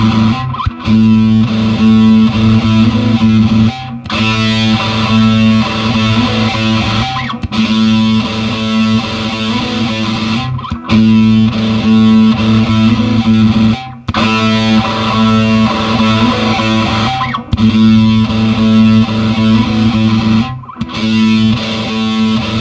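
Electric guitar played through a JHS Muffuletta fuzz pedal with sustain maxed and tone rolled back, loud thick distorted chords ringing out in repeated phrases with short breaks between them, and no voice over it.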